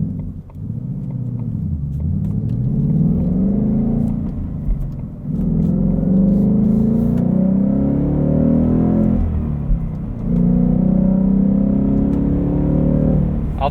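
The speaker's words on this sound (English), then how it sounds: "that exhaust is like just loud enough" 2020 Ford Mustang GT Premium Convertible exhaust rumbling as it drives, with the engine note rising and falling through several throttle surges and gear changes, close and loud.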